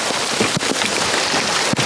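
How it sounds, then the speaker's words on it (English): Heavy rain pours down in a dense, continuous hiss beside a Rivian R1S SUV, with a couple of dull thumps of drops hitting a surface nearby. "It started raining, so I need to get inside."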